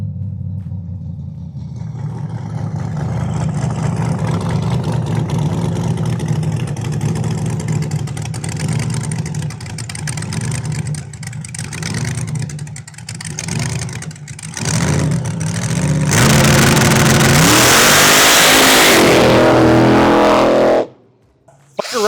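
A 1932 Ford hot rod engine revs hard, a loud, rough, throaty rumble rising and falling through repeated throttle blips, climbing to a screaming peak near the end before cutting off abruptly.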